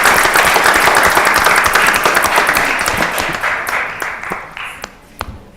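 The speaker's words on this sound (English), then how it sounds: "Give them a round of applause." Audience at a board of trustees meeting applauds, dense clapping that fills the room and gradually thins and fades over several seconds, with a few scattered late claps.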